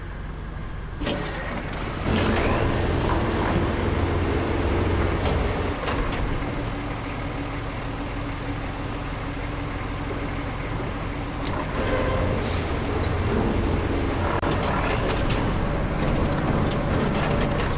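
A heavy truck in the driving game RoadCraft rumbles steadily at a low, even engine note, with occasional brief clicks and hisses from the controls, and no voices heard.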